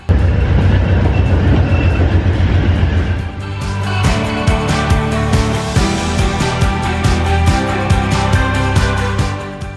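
Amtrak California Zephyr passenger train running on track, a loud steady rumble turning into a rapid clatter of wheels over rail joints, continuous and close with no voices.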